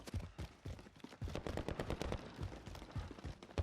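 Rapid bursts of video game gunfire, automatic weapons firing in dense volleys from ahead and to the right, loud and continuous throughout.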